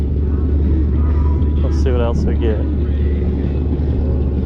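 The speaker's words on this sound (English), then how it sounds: "A lot of boat traffic today." A steady low engine drone of motorboats on an inshore bay fills the background, with someone briefly speaking over it while fishing from a pier.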